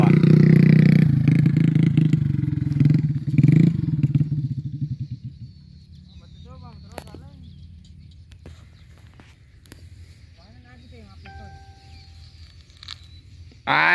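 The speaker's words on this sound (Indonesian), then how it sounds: "akan memuat padi lagi atau melansir padi menggunakan motor" A motorcycle taxi hauling harvested rice through a paddy field roars close by, then fades as it moves away, leaving quieter ambient clatter and scattered birdsong, with a brief burst of noise at the end.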